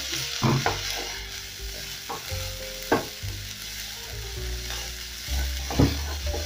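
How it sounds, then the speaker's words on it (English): Garlic and coriander stems sauté in a hot pan for a sausage stew, a steady sizzle broken by several clinks and scrapes of a stirring utensil against the pan, close and alone with no voices. "Then I'm going to saute this for about a minute as well"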